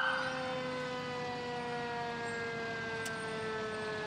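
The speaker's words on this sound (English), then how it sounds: "as you can tell, a really nice horn" A fire engine horn sounds during a town's grand day parade, a steady loud wailing blast held for several seconds with no talk over it.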